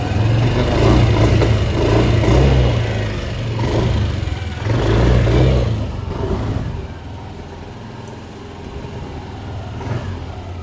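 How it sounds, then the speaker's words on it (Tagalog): A Yamaha Aerox S scooter with an idle fault revving up loud and close, its engine surging in waves before dropping away and dying to a low background rumble. "Pinaandar mo, tataas tapos biglang mamamatay."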